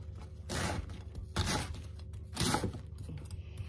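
A knife slices cabbage into very thin strips for a sausage-and-cabbage dish, making three separate rasping strokes, close but quiet, over a low steady hum.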